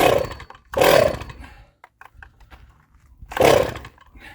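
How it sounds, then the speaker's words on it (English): A seized Stihl Wood Boss chainsaw is pull-started, giving two rough, sputtering bursts about two and a half seconds apart with faint rattles between them; the engine never catches. "I know you're not supposed to start a chainsaw like this, but we're going to just try again"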